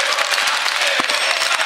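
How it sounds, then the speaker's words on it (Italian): Applause fills the Italian Senate chamber during a confidence-vote debate, a dense, steady patter of many hands clapping throughout, loud and continuous with no talk over it. "pensavo che era un applauso per me"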